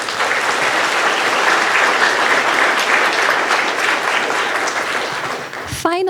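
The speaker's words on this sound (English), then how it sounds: "Please give them a round of applause." Sustained applause from a large audience fills a college commencement hall, a dense, steady wash of clapping lasting several seconds before it fades and a voice begins near the end.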